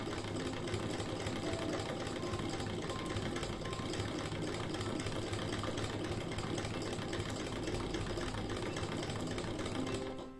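An antique sewing machine stitches through three thick fabric layers, a continuous rapid mechanical whir and clatter at steady speed, close and alone throughout.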